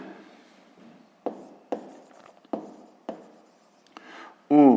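A pen writing out a math solution on paper, about five firm strokes with short scratchy pauses between them, close and quiet, ending with a brief burst of another sound.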